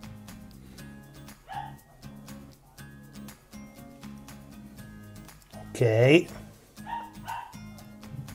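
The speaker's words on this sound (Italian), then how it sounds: "Intanto sentite il mio cane che continua ad abbaiare" A female dog barks in short bursts and yips from indoors with whimpering between, one louder outburst near the middle, while a person speaks briefly.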